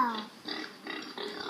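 A child imitates a pig oinking at bedtime, giving a few short nasal grunting bursts in quick succession, close and fairly quiet.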